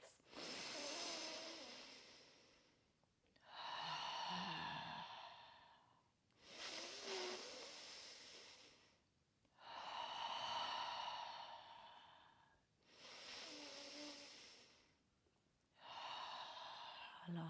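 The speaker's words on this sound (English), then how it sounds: "Taking 4 deep breaths." Slow deep breaths in and out during a guided yoga relaxation, with hands resting on the belly. Six long, airy, evenly spaced breaths alternate inhale and exhale, each lasting about two to three seconds, close and fairly soft, with no talking.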